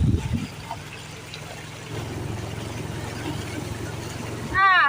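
A car pushes slowly through deep floodwater on a village road during heavy rain, with a low steady engine rumble and sloshing water, and a person talks over it.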